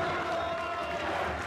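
Stadium crowd roaring in an ovation after a penalty goal by Racing Club at a football match against Godoy Cruz, a steady dense wash of cheering and noise filling the whole moment.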